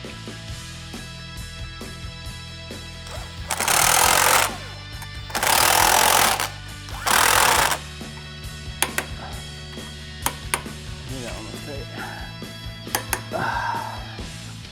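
An impact power tool bolts a steering stabilizer top plate onto a Ram 2500 truck in three loud rattling bursts of about a second each, then lighter clicks and clanks of parts over a steady shop hum.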